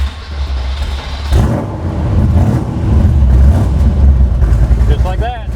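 A 1965 Superformance Cobra's engine starting up and revving in a steady mid-pitched rumble that swells and holds, close and loud, with someone speaking over it.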